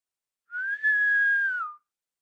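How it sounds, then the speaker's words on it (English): A portress blows a single steady whistle, about a second long, that rises slightly, holds, then drops off, clear and alone against silence. "The portress blows in a whistle."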